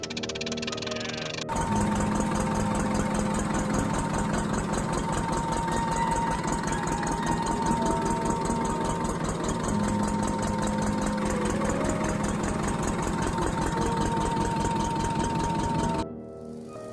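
A vintage Lister A 3HP diesel engine running steadily, a loud, even, rapid thumping with a constant mechanical hum that holds for about fifteen seconds before cutting off.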